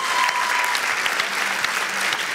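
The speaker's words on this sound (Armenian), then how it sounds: "Եկեք ծափարենք պոնչենս թիմին," A studio audience claps for a team on a sports club show. The applause is short, dense and even, lasting a couple of seconds with no speech over it.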